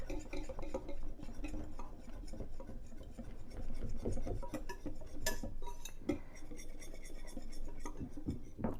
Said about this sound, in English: I think I should use the whisk.